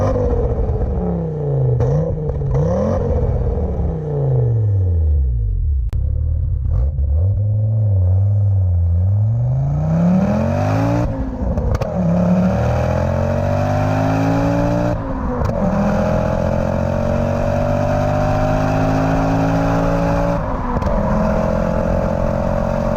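An Audi S2 engine pulls through the gears while driving, heard from inside the car as a loud rumbling drone that rises and falls with each acceleration and shift, with a steady whir and road noise underneath.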